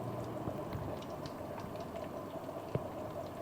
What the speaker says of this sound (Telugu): తర్వాత ఆయిల్లో వేసి బాగా డీప్ ఫ్రై చేసుకోవాలి.